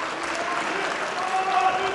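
An audience at a professional kickboxing final in the 75 kg division applauds in a steady, moderately loud wash of clapping with crowd murmur underneath.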